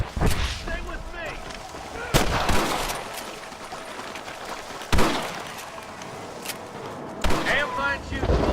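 Heavy gunfire in the Western video game Red Dead Redemption: loud, sharp shots and booming blasts burst out at intervals over a steady background din, with voices mixed in around the shooting.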